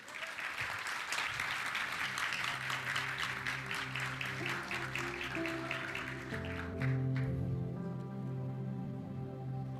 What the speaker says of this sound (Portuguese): Aplaudam a Jesus.